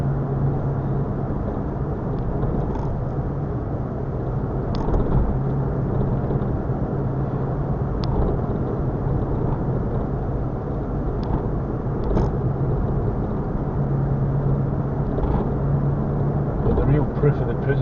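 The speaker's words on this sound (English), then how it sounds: "Once again, without the AC, the car's going fine" A car drives along smoothly with its air conditioning switched off, a steady low engine and road rumble holding throughout, gear changes barely breaking the drone, while someone talks over it the whole time.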